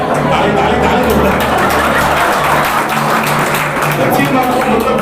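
A seminar audience at a business-plan talk claps together in a steady, dense burst of applause that runs through the whole stretch, with a voice speaking over the hall's noise.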